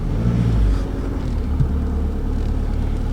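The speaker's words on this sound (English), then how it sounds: "Car seems to run okay." A Seat Leon's engine runs at a steady idle nearby after a new lower suspension arm is fitted, a continuous low rumble with a faint whir and no other sounds.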